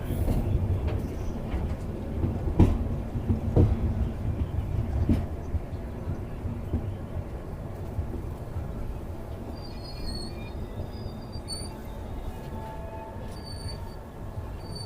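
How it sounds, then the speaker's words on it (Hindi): The Sealdah Express train rolls through Shivhara railway station with a steady rumble and clanking of wagons, louder at first and then easing off, with faint squeals of wheels and scattered thumps. "अभी भी हमारी ट्रेन चल रही है।"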